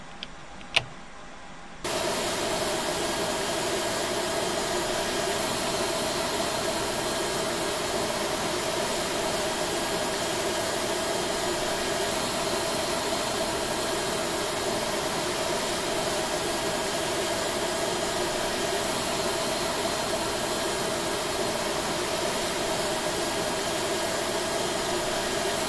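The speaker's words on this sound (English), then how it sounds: "Starting engine two." Engine two of an A320 in Flight Simulator X spooling up after a brief quiet moment, settling into a steady, loud jet whine and roar that holds to the end.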